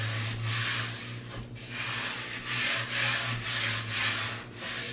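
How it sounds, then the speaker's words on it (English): A hand rubs back and forth across a wooden shelf board during a DIY wood-and-pipe build, giving a steady close-up scuffing and swishing that comes in several repeated strokes with no talking. "rub my hand across it, make sure I don't have any that went all the way through"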